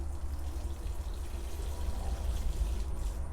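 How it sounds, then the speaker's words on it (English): Water dribbling steadily from a hole in a watering can during indoor pepper seed starting, a soft continuous trickle and splatter close by with no talking. "Got a hole in the watering can."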